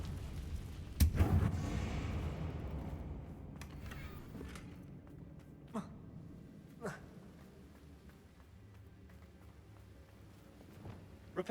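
A Confringo blasting spell in Hogwarts Legacy, cast near a battered bridge, bursts once with a loud crack and a fading rumble, followed by faint scattered clicks and knocks against quiet background ambience.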